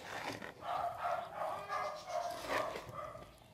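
A neighbors' small dog barks in repeated yappy bursts, somewhat distant and muffled, heard alone with faint background noise.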